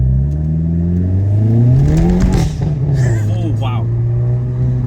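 A 2022 Hyundai Elantra N accelerates hard at about 70% throttle, its engine note rising loud and close in pitch then holding steady, with a brief exclamation from an occupant over the roar.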